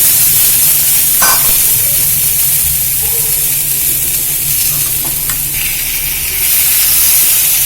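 Onion and masala sauté in hot oil for a black-eyed pea curry, a loud, steady sizzle up close with a few scraping stirs of the spoon, and no talking.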